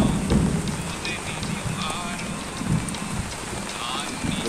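Steady rain falls outdoors with a dense even hiss and scattered drops, while a low rumble swells now and then underneath.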